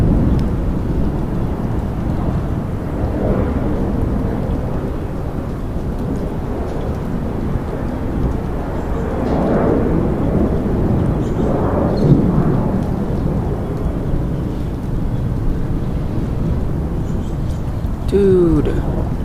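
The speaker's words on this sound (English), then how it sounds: "I'm under a severe thunderstorm warning for 70-mile-an-hour wind gusts." A severe thunderstorm during a St. Louis derecho rumbles with low, rolling thunder under steady rain and gusty wind noise, loud and sustained throughout, with a voice briefly heard near the end.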